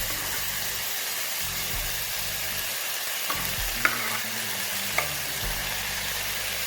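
Tomatoes, capsicum and zucchini for a lasagne sauce sizzle steadily in a hot pan, a broad constant frying hiss with a few clanks of the stirring spoon, no voices.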